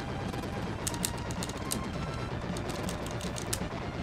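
Gunfire in the video game Wild Guns, rapid clattering shots in quick uneven bursts over a busy, steady game soundtrack.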